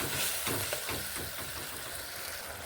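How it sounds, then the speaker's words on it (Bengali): Spices with turmeric powder frying and being stirred in a pan for a Bengali beans dish, a steady close sizzle with soft scraping strokes throughout, no voices. "মশলাটিকে এখন আমি কষিয়ে নেব"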